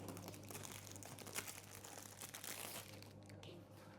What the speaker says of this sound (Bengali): তো চলেন আপনাদের সাথে আনবক্স করি। আনবক্স না আনপ্যাক করি।